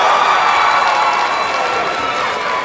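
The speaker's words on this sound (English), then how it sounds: "The crowd appreciates it." At a high school marching band performance, a large crowd cheers and applauds in a dense, continuous wash of noise that fades slightly toward the end.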